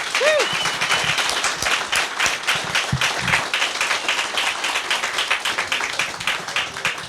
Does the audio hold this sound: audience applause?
yes